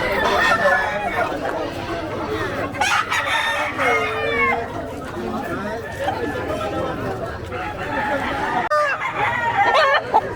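A gamecock rooster at Malolos Pet Market among other fowl gives crowing and clucking calls amid a busy market crowd's steady chatter and voices talking nearby.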